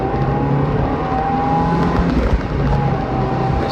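A 1996 Mazda Miata engine accelerating, heard from a ride-along, a steady loud droning motor with rising pitch that fills the whole stretch without speech.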